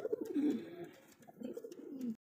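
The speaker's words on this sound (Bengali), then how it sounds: "দেখছেন কত সুন্দর একজোড়া কবুতর, এক্সিবিশন কবুতর" A pair of exhibition pigeons coo softly at close range, two low rolling coos separated by a brief pause, with faint background chatter and rustle.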